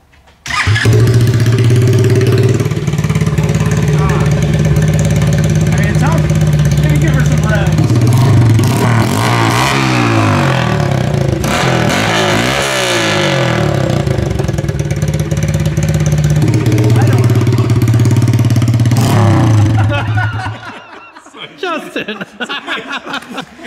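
An engine cranks and starts, then idles with a steady muffled rumble through a muffler, briefly revving midway before cutting off near the end.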